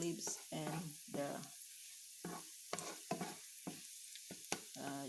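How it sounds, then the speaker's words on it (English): Garlic and bay leaves stir-frying in preheated oil give a soft, steady sizzle, broken by bursts of stirring and pan sounds. "stir fry the garlic and the bay leaves"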